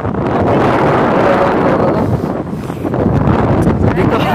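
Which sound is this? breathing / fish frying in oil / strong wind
strong wind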